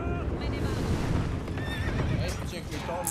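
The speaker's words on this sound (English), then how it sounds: "I hear some horses." Horses neigh and whinny loudly in a video game over a dense, rumbling battle-like din, with hoofbeats mixed into the busy background.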